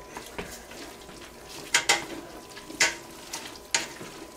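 Intermittent scraping and clinking of a utensil against a pot while mixing noodles with sauce, a few sharp metallic knocks amid soft stirring sounds.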